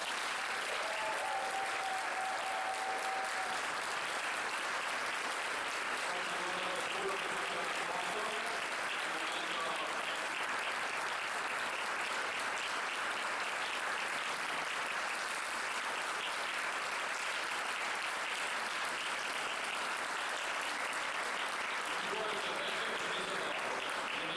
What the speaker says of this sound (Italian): data di oggi, e applauso